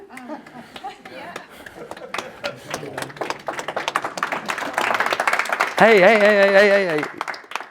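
Audience clapping at a talk on restoring water cycles and cooling climates, with sharp claps scattered and building into brief applause, mixed with voices and laughter, then a sustained tonal sound near the end. People talk throughout.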